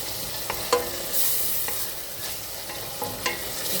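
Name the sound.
sautéing onions, garlic and tomato in a pan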